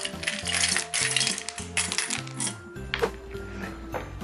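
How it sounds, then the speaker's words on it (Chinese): Ice cubes drop into a hollowed watermelon filled with Sprite, a few bright clinking and rattling hits in quick succession over a steady background tune. "再加入一些冰块"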